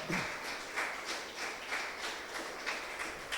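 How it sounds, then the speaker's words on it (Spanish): A church congregation applauding at a Holy Week Bible study, with a soft, steady wash of many hands clapping in a loose rhythm at moderate distance and no talk. "Le damos un aplauso al Señor."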